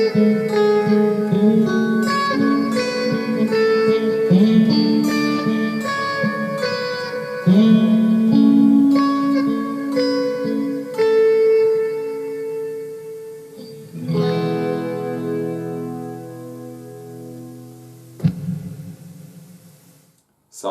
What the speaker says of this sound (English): The Fender Marine Layer reverb.